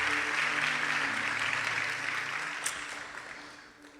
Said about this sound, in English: Give a good clap to Jesus.